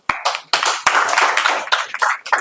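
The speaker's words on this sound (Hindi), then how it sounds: "चलिए एक बार ताली बजाइए इन लोगों के लिए" Students in a chemistry classroom clap together, producing loud, close, sharp claps in uneven bursts that run on for a few seconds.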